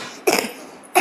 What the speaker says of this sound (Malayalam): ചെറിയ ചുമയും ജലദോഷവും ഉണ്ട് എനിക്ക്